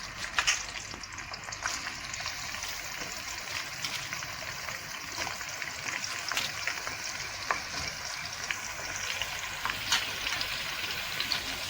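Diced capsicum, onion, spring onion and slit green chillies fry in a pan with a steady, close sizzle, punctuated by occasional stirring scrapes and crackles throughout.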